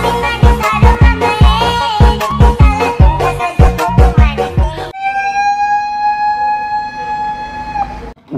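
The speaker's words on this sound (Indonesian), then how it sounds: "ada truk pemadam kebakaran teman-teman." A loud nearby horn blares in rapid rhythmic bursts, then a fire truck's siren wails steadily and close, holding a long rising-and-falling tone.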